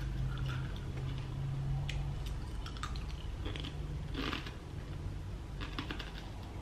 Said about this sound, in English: I'm just gonna sit here and look out my window and eat Crunchy Nut Cornflakes.